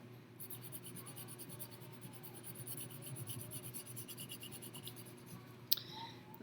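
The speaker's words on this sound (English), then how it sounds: "I'm using the very edge of my pencil" The edge of a pencil shades across paper for a landscape drawing, a faint, continuous scratchy rubbing that runs steadily throughout and ends with a single sharp tap.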